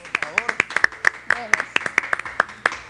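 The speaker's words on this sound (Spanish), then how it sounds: "Un aplauso para ella." Sharp, spaced claps ring out in a television studio as a guest is welcomed, with a voice talking over the rhythmic clapping throughout.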